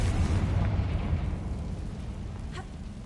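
A Confringo spell explosion in Hogwarts Legacy, a loud booming burst that rumbles and slowly decays over a few seconds, with a small crackle near the end.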